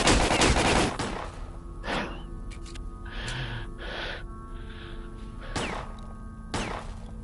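Gunshots in Stalker: Call of Pripyat, a dense burst of rapid shots up front, then scattered single loud cracks later, over a low steady background hum.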